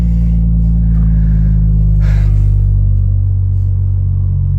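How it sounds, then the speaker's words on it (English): A parked BMW 435i engine idles with a loud, steady low rumble, rising briefly as it is revved, heard close up with no one talking. "So you just sit here and rev it up, right?"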